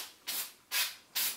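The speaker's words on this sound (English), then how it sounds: "It's almost like you're spray painting, except you're using snow." A can of fake snow spray hisses in three short, close bursts with brief pauses between them as it coats a Christmas tree.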